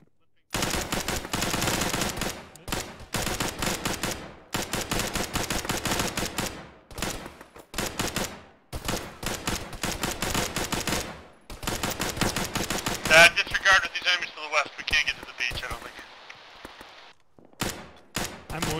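Rapid bursts of automatic gunfire from an ArmA military firefight, sustained and loud, with long rattling volleys separated by brief pauses and a voice briefly heard partway through.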